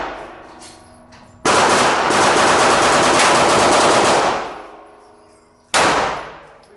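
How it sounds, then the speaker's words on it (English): A Smith & Wesson Shield Plus Carry Comp pistol fired at an outdoor range: a loud, rapid string of closely spaced shots lasting a few seconds, a pause, then another burst beginning, with no speech. "we just finished up shooting the Smith & Wesson carry comp"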